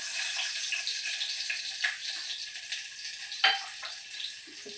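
Finely chopped onion sizzles in hot oil for tempering, a steady close frying hiss with a few brief crackles and stirring clicks, no voices.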